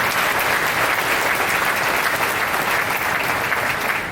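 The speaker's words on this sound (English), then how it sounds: "Let's give our staff a round of applause" An audience at a State of the City event in Peoria, Illinois, giving city staff a round of applause, a dense, steady clapping from a large crowd throughout.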